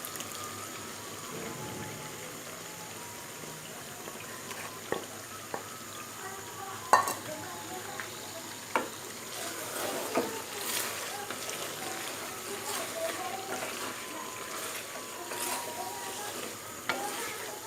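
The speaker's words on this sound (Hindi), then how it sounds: "अभी इसे दही के पानी में ही इसे अच्छे से भून लेना है।" Chicken cooked with kachnar buds fries and sizzles in yogurt liquid in a pan without added water, with steady soft crackling, scattered stirring clatters and occasional sharp spoon knocks, fairly quiet and close.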